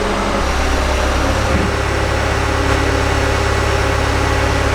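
A skid steer's diesel engine idles close by, a loud, steady low rumble that holds unchanged throughout.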